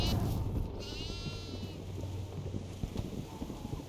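A goat bleats in the horror video game Devour over a low, continuous droning game ambience, with soft thuds and scattered footstep-like knocks close by.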